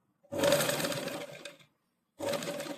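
A sewing machine stitches the back neck of a blouse in two bursts, a steady motor hum with rapid needle chatter running for over a second, stopping briefly, then starting again, close and loud.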